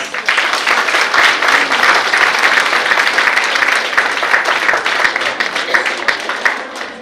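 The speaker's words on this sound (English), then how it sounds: "Let's give him a big round of applause." An audience at a medical college event applauds, dense sustained clapping from many hands filling the room at a steady loud level, tapering slightly near the end.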